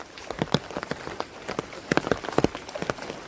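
Scattered drops patter irregularly on a hard surface over a steady wash of heavy, persistent rainfall in Jaffna, Sri Lanka, close and fairly loud.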